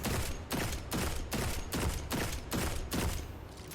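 Rapid gunfire bursts in Destiny 2, aimed at retreating enemies during a solo Master Nightfall, The Arms Dealer; about eight evenly spaced loud shots ring out in steady rhythm with no talk.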